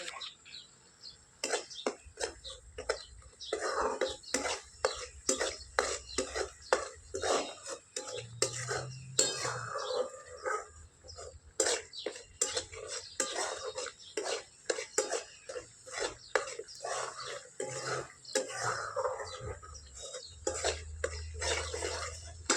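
Salt, turmeric, red chilli and homemade black masala being stirred into roasted masala in a pan, with rapid repeated scraping and clinking of a spoon against metal, close and busy, with occasional low voice or throat sounds.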